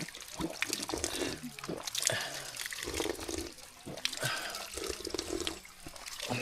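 Spring water flowing steadily along a trail to Kilangin Falls, a continuous close trickling wash with people talking over it.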